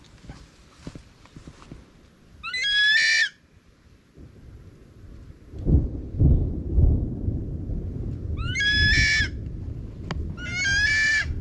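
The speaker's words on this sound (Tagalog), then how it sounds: "kasi kumukulog na kumukulog, kumikidlat" Thunder rolls in low and loud, rumbling steadily through the second half, while roosters at a gamefowl yard crow three times, once early and twice near the end.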